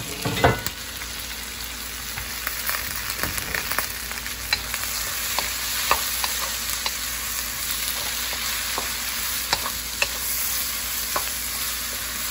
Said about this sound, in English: Make sure that the onions are somewhat translucent. I'm just going to add all of the other vegetables.